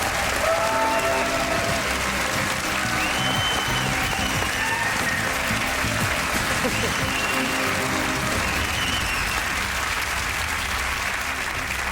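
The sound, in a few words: studio audience applause and cheering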